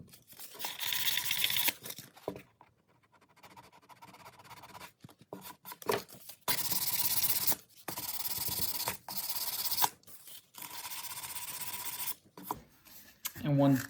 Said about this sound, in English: So you can keep working with your sandpaper, going over it